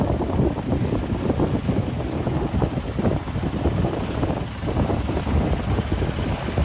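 Sailboat heading out from the harbor at Kittery, Maine, pitching through rough ocean waves in strong wind; steady loud roar of wind buffeting and water rushing throughout, with no talking.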